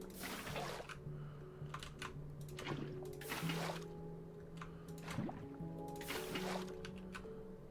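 Water placed and flowing in a blocky building video game, with soft trickling and dripping alongside faint clicks and a steady low hum, no voice.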